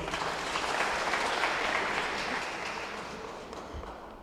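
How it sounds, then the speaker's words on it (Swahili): A crowd at a vote-count announcement claps for a winning candidate. The applause is a dense, moderate patter that swells briefly and then slowly fades. "Makofi kwake"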